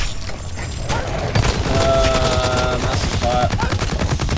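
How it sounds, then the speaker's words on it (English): Heavy automatic gunfire from the shooter game Blacklight Retribution in Onslaught mode, a dense sustained rattle of rapid shots with booming impacts, loud and continuous throughout. "Massive fire."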